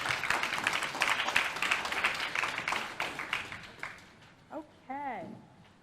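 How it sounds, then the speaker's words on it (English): An audience at a caucus meeting claps in a busy burst of applause that fades out over a few seconds, after which a voice speaks. "Give yourselves a round of applause."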